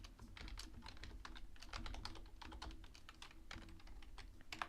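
Fast, steady typing on a computer keyboard while coding a React app, a dense run of close, crisp key clicks with small pauses, quiet and alone.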